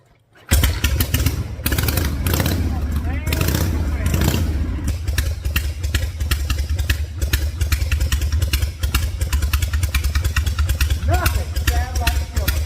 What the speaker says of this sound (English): Nothing sounds like a shovelhead.